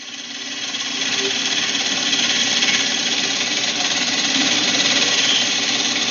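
A gouge takes a bevel-supported roughing cut on wood spinning on a lathe, giving a steady, loud, continuous rasping hiss that swells slightly at the start and holds without a break.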